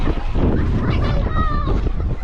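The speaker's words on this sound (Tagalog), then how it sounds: "Hangin eh." Wind buffets the microphone in heavy gusts, with a rushing outdoor roar and voices talking over it, on a mountain by the Dupinga River in Gabaldon, Nueva Ecija.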